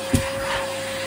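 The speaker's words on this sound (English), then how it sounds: "For this, firstly, I should vacuum here." A steady mechanical whine runs nearly unbroken with a constant tone, briefly thumped near the start, then cuts off at the end, like a vacuum cleaner running.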